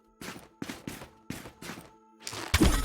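Arrows fired one after another in a 3D puzzle game, each a short, thudding shot with pauses between them, heard clearly and close, ending in a louder, denser burst.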